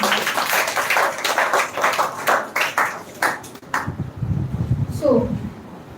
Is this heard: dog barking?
no